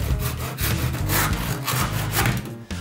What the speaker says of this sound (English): We'll need to cut some blocks for packing under the pieces to allow the blocks to sit level.